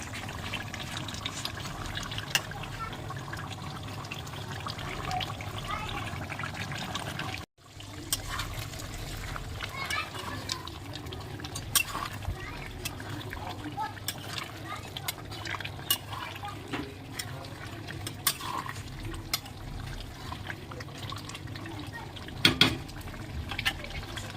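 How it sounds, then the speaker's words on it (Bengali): Duck meat curry cooked village-style simmers and bubbles in a pot, giving a steady wet bubbling and sizzling bed with small clinks of stirring throughout, briefly cutting out once partway. "এই যে মাংসটা জাল হচ্ছে দেখুন আর একটু ঝোল কমে গেলে গরম মশলাটা বেটে দিয়ে দেবো"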